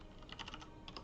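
Rapid, quiet keystrokes on a computer keyboard, a short burst of soft clicking taps close to the microphone.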